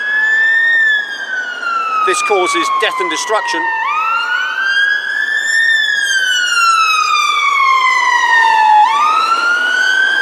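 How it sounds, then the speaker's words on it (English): Ambulance sirens passing by outdoors in Brighton, a loud wailing siren sweeping slowly up and down in pitch and continuing throughout, with someone speaking briefly over it early on. "As you can see, all the ambulances coming past"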